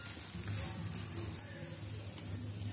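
Banana pancake frying in ghee in a pan, a steady close sizzle with a constant low hum and crackle throughout, no voices.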